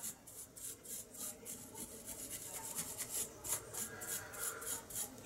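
Soldering iron tip rubbed clean against a tip cleaner during a repair of a cordless screwdriver adapter, giving a quiet, steady rhythmic rasping scrub of repeated strokes with no talk.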